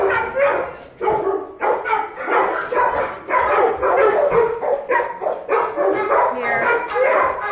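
Rescue dogs in poor conditions bark repeatedly and excitedly, several animals overlapping in a loud, continuous chorus close by.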